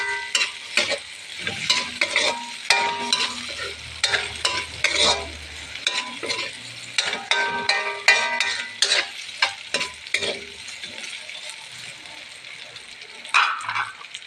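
Ingredients for pancit sauté in a hot pan, a close, irregular scrape and clatter of a utensil stirring over a bright sizzle, with short pauses between strokes and faint voices in the background.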